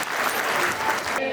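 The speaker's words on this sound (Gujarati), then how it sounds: "હાલો નાખો છેલ્લી તાળી હાલો." Audience clapping at a Chothani family reunion gathering: a dense, brief burst of applause from many hands, close and steady, with a voice faintly underneath.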